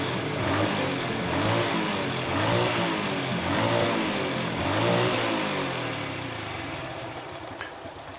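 A Honda Revo Absolute motorcycle with a hesitant, underpowered engine is revved in a workshop, the engine note swelling and falling in repeated surges, loud and close, then easing back toward idle.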